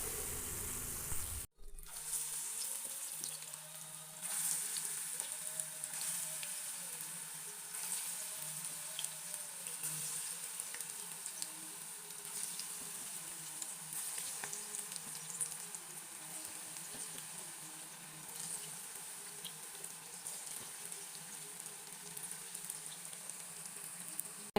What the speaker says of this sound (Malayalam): അങ്ങനെ എല്ലാ പൊക്കവടയും നമ്മൾ വറുത്തെടുത്തു